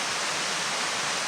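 Mountain water streams down a slope with a steady, dense rushing roar that stays even and unbroken. No voices are heard.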